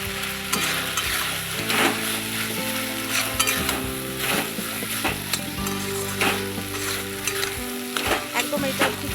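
Potato and drumstick pieces frying with poppy seed paste for a Bengali aloo posto, a loud, steady sizzle with repeated stirring scrapes and clinks of the spoon in the pan, close and continuous.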